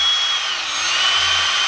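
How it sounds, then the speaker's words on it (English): A power drill fitted with a drill brush spins at low speed while scrubbing aluminum wheels, giving a steady, loud whirring hum with a brushy hiss that holds constant throughout. "And I got it on low speed, the drill."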